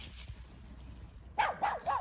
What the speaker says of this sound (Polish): O, jakiś piesek szczeka.